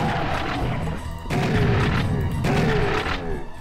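Explosions in the video game Serious Sam boom in a rapid cluster, several heavy blasts and crashes overlapping loudly with barely a pause between them.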